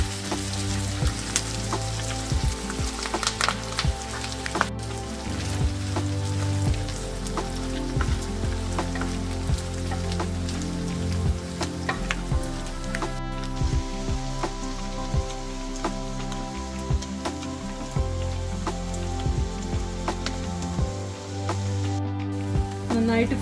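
Kerala-style beef fries in a pan, stirred now and then, giving a steady, dense sizzle that runs throughout with soft scraping under it.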